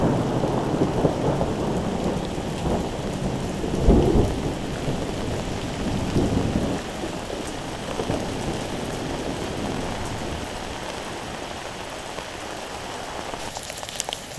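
Rain splashing steadily on the ground during a thunderstorm, with a loud rolling thunder crack near the start and a second rumble a few seconds later, then the rain easing into a softer patter.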